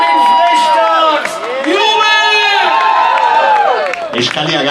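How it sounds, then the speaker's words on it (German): A live audience at a stage show by a comedy singing duo cheers and whoops loudly, with clapping mixed in. The dense crowd roar is close and continuous, with many overlapping shouting voices rising and falling. "Riesenbeifall, 3, 2, 1, Jubel!"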